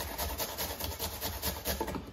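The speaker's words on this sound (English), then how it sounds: "So all you have to do is grate the apples." Apples are grated by hand for blackberry and apple crumble wine, making a close, rhythmic rasping scrape of repeated strokes.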